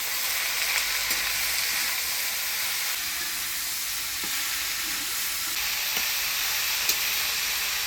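Turmeric, salt and green chili stirred in a hot frying pan while cooking vegetables: a steady loud sizzle with soft spatula scrapes and stirring, no talk.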